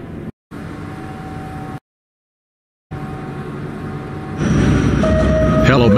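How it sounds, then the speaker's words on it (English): A train arriving at a station, a steady low rumble and rolling hum that grows louder near the end with faint squealing tones, broken by two short silent gaps. "Well, it looks like the train is coming."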